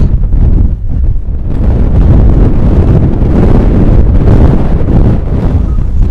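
Strong wind buffets the microphone throughout on an exposed hilltop at the Lost Lad cairn in the Peak District, a loud continuous low rumble with gusting surges and no voices.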